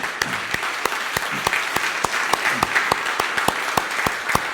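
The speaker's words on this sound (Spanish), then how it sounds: "¿Por qué no un aplauso al Señor primeramente?" A church congregation applauds during a Spanish-language service, a steady wash of many hands clapping with sharp, evenly spaced claps standing out on top, sustained and fairly loud throughout.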